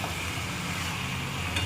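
Mutton seasoned with salt and red chilli powder sautés in a pan, a loud, even, close-up sizzle with faint stirring, unbroken for the whole moment.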